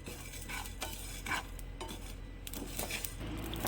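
Poppy seeds and whole spices dry-roasting in a pan over a low flame for a mutton masala gravy, heard as steady scraping and stirring with soft crackles and utensil clinks, close and alone.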